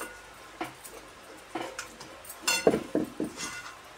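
Fish pieces being mixed with masala and oil in a bowl, heard as scattered close clinks and scrapes of a utensil against the dish, irregular taps that bunch together in the second half, fairly quiet and without talking.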